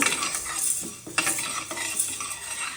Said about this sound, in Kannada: 1 ಕಪ್ ಕಡಲೆಬೇಳೆ ಈಗ ಚೆನ್ನಾಗಿ ಫ್ರೈ ಮಾಡ್ಕೊಳ್ಳೋಣ